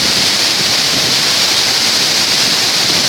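Kale Waterfall in Muang Hun district, Udomxay province, Laos, pours in a dense, steady roar of rushing water, heard near and loud throughout.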